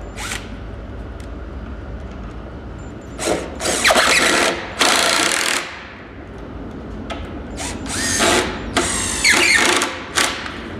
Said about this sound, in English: Get yourself some really nice big screws so they hold this together, and we pre-drilled this board.